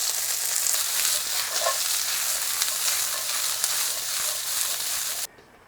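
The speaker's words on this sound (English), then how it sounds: "start sauteing our onion" Onion sautés in a pan, giving a steady, bright, close sizzle with faint scattered crackles that continues evenly until it cuts off abruptly near the end.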